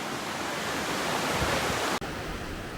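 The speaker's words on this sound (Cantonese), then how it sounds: "前邊已經係瀑布嘅所在地" Sewu waterfall in Indonesia roars as a dense, steady wall of rushing, crashing water close by, loud and unbroken apart from a momentary dropout.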